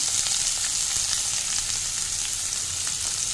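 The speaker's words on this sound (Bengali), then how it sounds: "তেলটা আমার গরম হয়ে গেছে, এবার আমি একে একে ভেজিস গুলো দিয়ে দিচ্ছি" Vegetables for a Bengali-style veg chowmein (potato, capsicum and others) sizzle steadily in hot oil in a pan, a close, even frying hiss with no talk.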